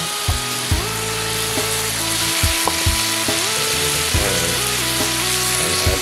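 Vegetables hit a hot frying pan with a loud, steady sizzle, broken by clanks and scrapes of a utensil stirring against the pan.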